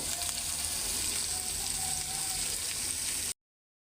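Eggs and potatoes fry in hot oil seasoned with salt and turmeric, giving a steady, close hiss of sizzling that runs unbroken and fairly loud until it stops abruptly.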